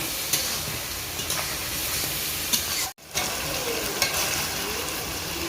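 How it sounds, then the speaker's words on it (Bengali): A ground spice paste with duck meat stir-fries in a pan, making a continuous close sizzle with periodic scraping strokes of a spoon. A brief sharp break in the sound comes midway. "মশলার সঙ্গে আরও ভালো করে কষিয়ে নেব"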